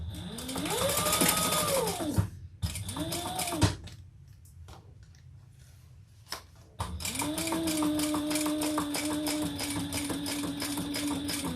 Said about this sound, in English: we're going to sew that together at the seam allowance in the pattern